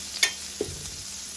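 Butter and lemon juice hit a hot pan with a brief sharp sizzle, followed by a second soft spit, then a quiet lingering hiss; faint and short with no voices.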